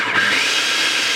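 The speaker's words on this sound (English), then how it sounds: "And blend it up." A countertop blender whirs steadily, mixing onion almond cracker dough with avocado oil; a continuous motor hum with no pauses across the short burst, close and moderately loud.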